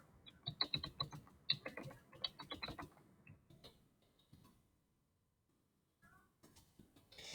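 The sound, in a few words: typing a quiz question on a computer keyboard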